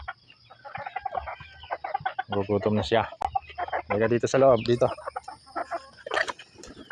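Chickens cluck and a rooster calls nearby while a person talks over them, with clucking bursts scattered throughout.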